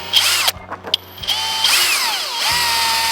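A power drill spins a windsock target, its motor whining up in pitch, cutting out briefly, then revving again in a few rising and falling bursts, close and loud with no talking.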